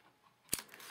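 A single quick snip of scissors trimming a small piece of paper for a handmade card envelope, a sharp close crunch over a quiet room, followed by faint rustling.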